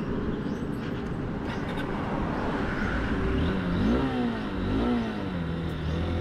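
A 2025 Honda SP160 motorcycle engine runs on a highway, idling steadily and then revving up and down twice in smooth rising and falling sweeps, close and fairly loud with no talk.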